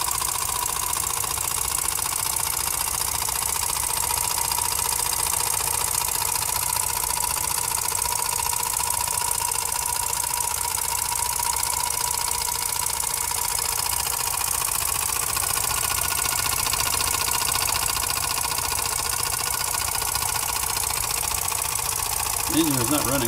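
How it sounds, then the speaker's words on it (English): A Jensen #85 toy steam engine powers four small generators, running at a steady, unstrained pace with a continuous even hum and whir. Someone talks over it throughout. "The engine is not running all that hard."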